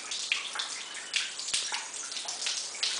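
Water splashes and trickles continuously in an old Roman stone fountain, a bright close hiss of flowing water broken by small drips and one sharper splash.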